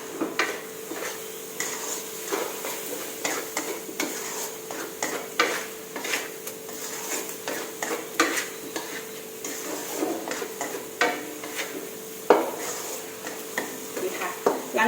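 Minced pork stir-fried with chili and long beans in a pan, a spatula scraping and clanking in frequent uneven strokes over a low sizzle, close and clear, with a faint voice at times.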